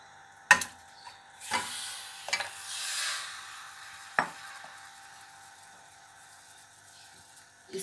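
Mutton pieces with salt and turmeric go into a pan and fry with a soft sizzle. A few sharp clatters and scrapes of stirring punctuate the frying.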